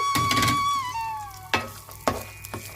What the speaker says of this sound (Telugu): ఇప్పుడు ఆయిల్ హీట్ ఎక్కిన తర్వాత ఈ ముక్కల్ని ఇందులో వేసేస్తున్నాను